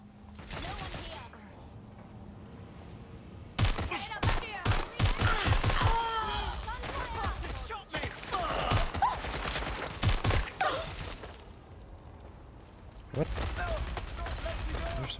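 Gunfire from the video game Watch Dogs Legion comes in sharp bursts of shots around the middle, mixed with game sounds and voices, followed by a louder stretch of noise toward the end.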